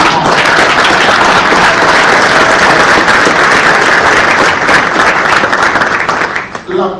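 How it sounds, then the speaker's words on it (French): Warm applause from an audience at a Catholic church gathering in the DR Congo, honoring a visiting bishop; dense, loud clapping runs steadily for several seconds before tapering at the end. "je vous prie d'applaudir chaleureusement"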